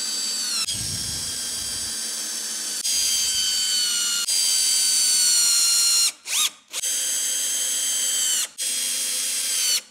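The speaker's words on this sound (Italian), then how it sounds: "Metterò delle viti in un pezzo di frassino senza fare il preforo" A power drill whirs in long ratcheting bursts, driving screws into ash wood without pilot holes, with brief pauses between runs and a short stop near the end.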